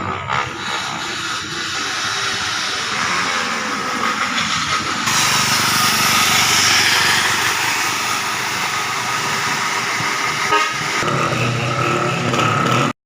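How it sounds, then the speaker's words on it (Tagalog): Motorcycles with loud mufflers pass along a street in a continuous, close, roaring drone that swells in the middle and stays loud throughout. "manood sa kalsada ng mga dumadaang motor na ang ingay ng muffler"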